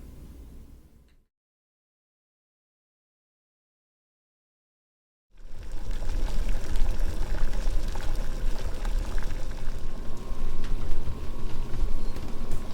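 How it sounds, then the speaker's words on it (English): Steady broadband rushing and bubbling of boiling water being poured in a kitchen, loud and continuous after a brief sound cut and several seconds of silence. "So I got the boiling water."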